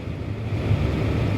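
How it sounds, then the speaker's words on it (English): A farm tractor idles during a durum wheat harvest, giving a steady low rumbling drone that holds even throughout, close and continuous, with no talking. "So like I said, tractor's idling away."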